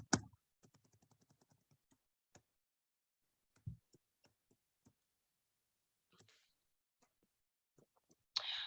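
A computer mouse clicking in a quiet room: sparse, faint single clicks and short quick runs spread over several seconds, with long silent gaps between them.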